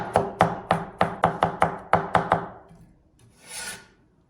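A kitchen knife chops smashed garlic cloves on a cutting board for a Chinese New Year kidney dish, about ten quick, sharp, evenly paced blows, then a softer brief scrape at the end.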